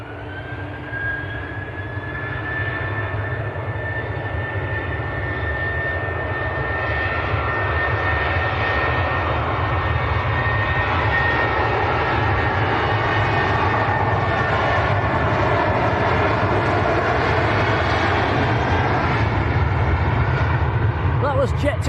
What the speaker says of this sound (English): Jet 2 to Krakow, 737-800.